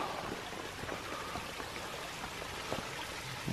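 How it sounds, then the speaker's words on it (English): A small waterfall and stream on the Appalachian Trail give a steady, close rush and patter of falling water, continuous and even, with no voices over it. "And another little waterfall."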